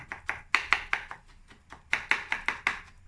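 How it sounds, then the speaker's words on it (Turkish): A knife crushes seeds on a cutting board in quick repeated thumps, two clusters of firm, close blows separated by a short pause. "Böyle bıçakla iyice ezelim."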